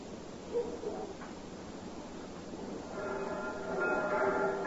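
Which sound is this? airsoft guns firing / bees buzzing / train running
train running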